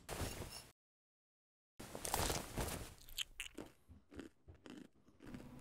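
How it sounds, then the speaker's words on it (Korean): A homeless man eating cooked meat in a horror animated short, with close, wet biting and crunching chews in irregular bursts after a brief silence. "노숙자는 조리를 끝마친 살덩어리를 맛있게 먹어치웁니다."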